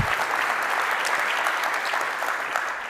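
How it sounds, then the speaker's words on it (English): A conference audience at a Vue.js developer event applauds the organizers with loud, steady clapping from a full room that holds for the whole stretch. "if we can get a huge round of applause for them for organizing this amazing event"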